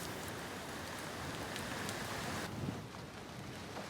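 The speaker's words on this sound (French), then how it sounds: "là il pleut aujourd'hui" Steady, heavy rain pours down on a remote Pacific island in a dense, continuous hiss, with no voices or other sounds standing out.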